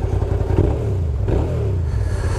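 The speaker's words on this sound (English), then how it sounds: "That sounds quite deep and throaty for a 650." Suzuki SV650S motorcycle with an aftermarket exhaust revving close by, a deep, throaty engine drone that holds steady and swells slightly without pause.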